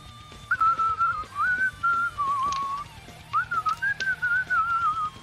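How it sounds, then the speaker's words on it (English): A person whistles a melodic tune in wavering phrases with short pauses, close and clear over a low background rumble, with no talk. "You're the only guy that knows how to whistle while he works."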